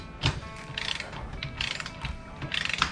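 A torque wrench ratchets in quick clicking runs while bolt-on flares are tightened on a Ford Territory, the close, sharp clicks repeating in several short bursts.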